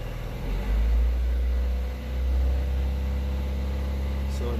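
A gasoline engine at a cold idle is revved up to about 2000 RPM, its steady low drone swelling twice in smooth rises before settling back to a constant hum.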